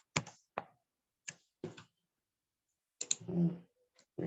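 Keys on a computer keyboard are struck in sparse, irregular clicks, close and fairly quiet, with a pause partway through and then a short quick cluster of keystrokes.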